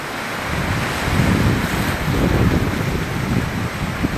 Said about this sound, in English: The sea, there's nothing but water.